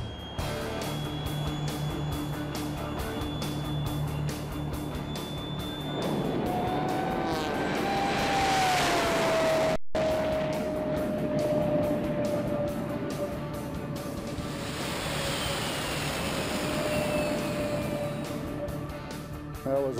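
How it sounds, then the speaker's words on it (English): A jet car making a racing run, a loud sustained turbine whine and roar that swells as it builds power and passes, then holds a high, steady tone. "Race control, jet car, checking in, we're ready."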